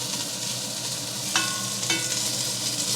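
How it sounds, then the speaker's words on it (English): A batch of oxtail pieces sears in oil in a pot for braised oxtail, an even, steady sizzle with two brief metallic clinks partway through, close and alone. "Now let's take these off and sear the second batch."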